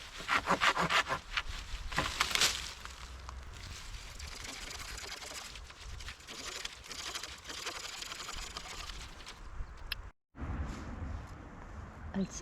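A handsaw rasps through wood outdoors in a forest in steady back-and-forth strokes, close up, cutting a spatula blank, with a brief pause near the end before sawing resumes.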